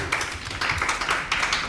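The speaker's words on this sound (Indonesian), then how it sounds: "Tepuk tangan untuk Bu Sarjati" A small audience claps briefly in a teacher-candidate mentoring session in Grobogan, a short, dense patter of hands at moderate level with room noise.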